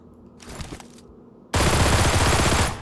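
Rapid full-auto gunfire from a P18C pistol in PUBG Mobile: a brief, lighter burst of shots comes first, then after a short gap a loud, dense, unbroken stream of fire runs to the end.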